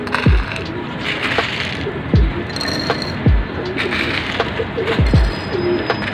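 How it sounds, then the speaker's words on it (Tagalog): Pigeons coo repeatedly close by, low swooping calls recurring about every second or two over a busy background of other birds. "Ayan, bibigyan natin ng pagkain yung 2 pares natin mga kalapati"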